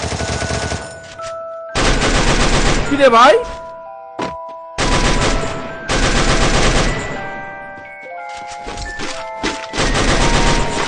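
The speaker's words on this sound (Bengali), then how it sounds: "উড়াদুরা ফায়ার করা শুরু করে। মানে ফায়ার করতে করতে এমন শেষ হয়ে যাচ্ছিল" Rapid bursts of automatic gunfire ring out in the video game Free Fire, loud and close, with short pauses between them. A player's voice speaks briefly over the shooting.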